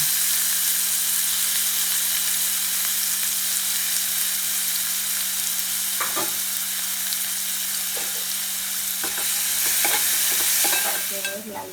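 Onion and curry leaves sautéing in a pan until reddish, a constant near sizzle that carries on throughout, with stirring clatters and scrapes growing busier toward the end.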